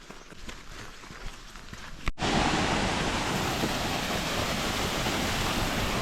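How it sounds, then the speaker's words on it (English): A waterfall roars along the Annapurna Base Camp trek in Nepal as a steady, loud broadband rush, taking over abruptly after a moment of softer footsteps and outdoor ambience. "There's so many of these waterfalls everywhere."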